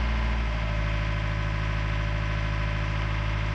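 A sailboat's inboard engine is being run up to about 1600 RPM. It gives a steady, loud mechanical drone with an even rhythmic throb throughout and no talk over it.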